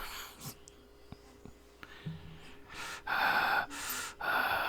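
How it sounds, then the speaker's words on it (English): Heavy, labored breathing: a few soft breaths and small clicks at first, then two loud, drawn-out rasping breaths close to the listener. "He's all breathing heavy,"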